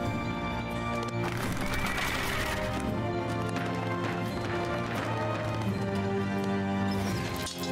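Horses in the strategy game 0 A.D. neigh and clip-clop amid busy in-game clatter and a sustained musical backdrop, at moderate volume with no speech.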